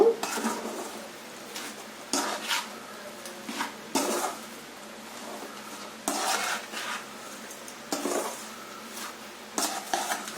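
Lemon pickle is stirred in a pot with a metal spoon, giving repeated bursts of scraping and clanking roughly every two seconds, separated by brief quieter gaps.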